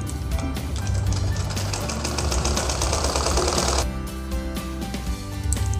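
Sewing machine stitching a blouse, running close and loud with a fast, even mechanical clatter that speeds and slows, pausing briefly near the end before starting up again.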